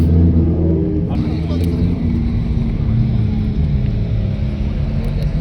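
A race car style 135 engine rumbles loud and steady with deep low-end drone and slight revving, with people talking over it.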